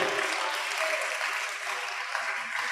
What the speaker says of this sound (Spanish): Denles un aplauso a cada una de las recepcionistas.